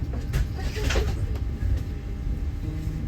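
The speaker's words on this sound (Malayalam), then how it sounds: "ട്രെയിൻ പതുക്കെ ലോങ്കോ ട്രെയിൻ സ്റ്റേഷനിൽ റെയിൽവേ സ്റ്റേഷനിൽ നിർത്തുകയും" An SNCF train on the Paris Gare du Nord to Calais Ville line slows and stops at a station, a low rumbling roll with soft rattles and creaks heard from inside.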